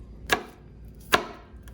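Two crisp knife strikes on a cutting board, spaced about a second apart, as garlic cloves are chopped for honey soy garlic Korean fried chicken; close and sharp, with no voices.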